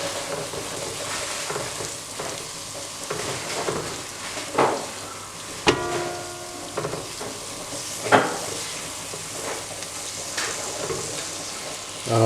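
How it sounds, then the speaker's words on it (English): Dry spices frying in a pan for a curry give a crackling sizzle, with several sharp clinks and scrapes of stirring against the pan. "I want to cook the spices through for maybe 3 to 4 minutes"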